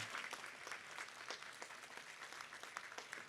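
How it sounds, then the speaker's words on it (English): Applause at a college of medicine commencement ceremony, a dense steady wash of many hands clapping from a large crowd, fairly distant and even throughout. "let's give them a big round of applause"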